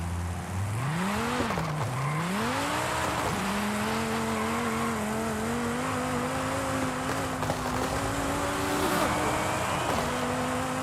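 Car engine in the racing game Forza Horizon 5, played on a wheel with shifter and handbrake, revving up and down through gear changes before settling into a long, steady high-speed drone with faint tire noise.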